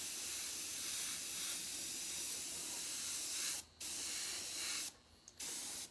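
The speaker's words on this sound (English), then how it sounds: "Seems to be spraying fine." A steady close hiss comes from a brand new airbrush gun spraying, interrupted by a few short gaps toward the end as the trigger is released and pressed again.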